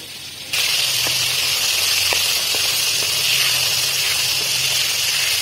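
Flour-coated chicken pieces for chicken manchurian deep frying in hot oil, a sudden loud, steady broadband hiss that starts abruptly and stays dense and continuous, with faint clicks and pops scattered through it.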